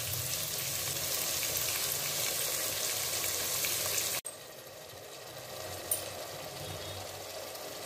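Tomatoes sautéing in a pan for a chicken leg piece gravy, a steady close sizzle and fry throughout, briefly interrupted and then continuing slightly quieter, with no talk.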